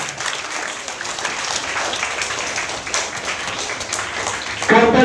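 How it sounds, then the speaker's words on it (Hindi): A crowd claps steadily in dense, sustained applause at a primary school Hindi quiz, fairly loud, with a voice cutting in at the very end. "जोरदार तालियों से स्वागत कीजिए टीम का"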